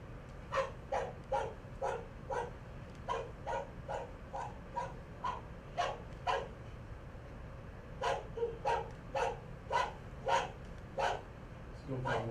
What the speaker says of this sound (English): play some bark sounds for y'all